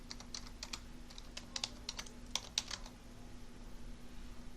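Typing on a computer keyboard, soft and close, with irregular bursts of key clicks and short pauses over a faint steady hum, no voices.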